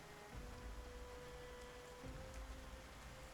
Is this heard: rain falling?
yes